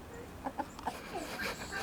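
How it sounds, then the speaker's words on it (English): Chickens in a garden give a few soft, short clucks and murmurs at middle distance over a low outdoor background. "Look at these chickens, they're following me."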